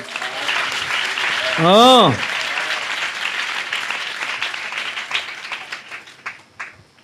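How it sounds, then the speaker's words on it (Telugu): Audience applause at a church fasting prayer meeting, with steady clapping from the congregation, a brief sung or spoken interjection early on, and the clapping tapering off toward the end. "చప్పట్లు కొట్టగలరు ఒకసారి?"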